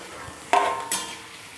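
Grated potato chips drop into hot oil, producing two sharp bursts of sizzling about a third of a second apart that then settle into a fainter fry.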